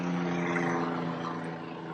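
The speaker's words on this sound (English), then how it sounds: "You can hear a helicopter overhead" A steady droning rotor and engine hum hangs overhead, with a low humming tone and broad wash of noise, constant throughout with no talking.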